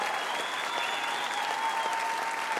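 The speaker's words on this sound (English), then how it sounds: "we're zooming on this woman who is clapping" Audience applause in an auditorium, a dense, steady wash of many hands clapping at once that holds at an even level throughout.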